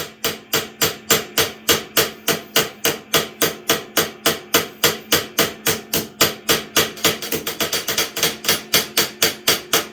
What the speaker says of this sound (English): It'll peen more evenly that way.